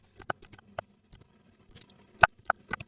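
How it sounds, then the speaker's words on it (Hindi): Light, irregular clicks of a computer keyboard as a short phrase is typed into an Excel spreadsheet, close and crisp with brief pauses between bursts. "जैसे मैं यहाँ पर कुछ टाइप करती हूँ, फ्यूचर टेक ट्रेंड टाइप करती हूँ"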